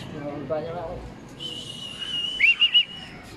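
A person at an outdoor fun run whistles a steady high note, then three quick chirping blips, over background noise with brief voices at the start.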